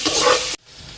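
Water poured into a pot of cumin rice pulao, a loud hissing sizzle as it hits the hot tempered rice and oil, cutting off abruptly after about half a second into a faint quiet hiss.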